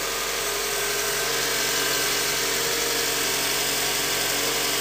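A 2008 Toyota Scion engine idles just after a cold start, with a steady, even drone and a constant hiss that hold without change and carry no voices.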